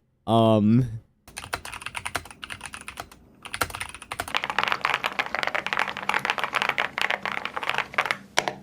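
Rapid clacking of a mechanical keyboard being typed on steadily and close up, after a brief rising electronic tone at the start.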